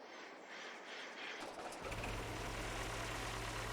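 A faint rumble grows as a heavy combine harvester engine in Farming Simulator 22 cranks and catches, then settles into a deep, steady idle.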